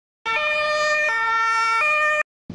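Loud, close electronic siren of an emergency vehicle, a steady two-tone wail lasting about two seconds with abrupt pitch shifts, cut off sharply before a brief burst of another sound.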